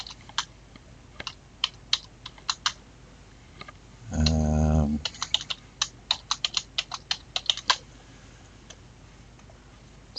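Typing on a computer keyboard while entering a registration number: sharp close key clicks in uneven bursts, broken midway by a short low buzzing hum, then more quick tapping.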